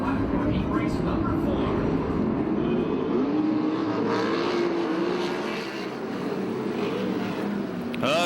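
USAC/CRA sprint cars roar off at the green flag for a heat race at Perris, with a loud, sustained mass of engine noise, some rising revs, and a voice talking over it from the public address.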